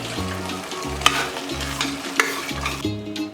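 Cooked pumpkin curry is mashed and stirred in a pan, with a soft sizzle under rhythmic scraping and thumping strokes and two sharper clanks of the utensil against the pan.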